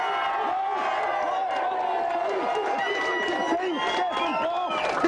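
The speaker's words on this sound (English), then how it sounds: "let's have a big cheer for the Aladdin team" Studio audience at a Christmas special of a 1993 video game TV show cheering and whooping loudly and continuously, a dense crowd roar with scattered shouts.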